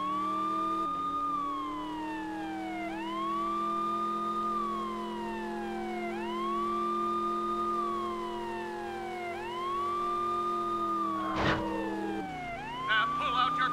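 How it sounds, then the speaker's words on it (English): A police siren from the video game True Crime: New York City wails in steady, repeating rising-and-falling cycles, loud and close, over a low engine hum, with a sharp bang near the end. "let's hear your siren, cop's best friend"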